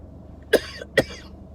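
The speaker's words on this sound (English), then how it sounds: "Excuse my coughing." Two short, close coughs about half a second apart, in a quiet room.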